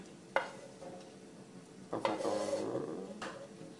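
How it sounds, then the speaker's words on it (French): Oil being drained from a pan of fried lardons and onions: faint sizzling with clinks and scrapes of utensil against the pan, a few sharp knocks standing out over a low simmer. "je vais enlever l'excédent d'huile"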